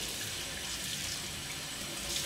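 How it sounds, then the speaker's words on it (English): Hot water running from a kitchen tap into a sink, a steady, even hiss of flowing water held close for a couple of seconds with no voices. "So we're gonna get our water in our sink as hot as we can,"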